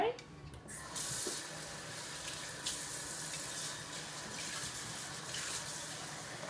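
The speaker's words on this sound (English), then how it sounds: "So, I am going to add water to this." Water pours and gushes steadily into a pan of steak and onions for bistec encebollado, a continuous close rushing stream filling the pan with no talk.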